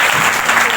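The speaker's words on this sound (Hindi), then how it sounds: "ताली बजाएंगे।" Applause from a church congregation at a live healing and prophecy service, a dense, steady wash of many hands clapping together, loud and close throughout the short burst.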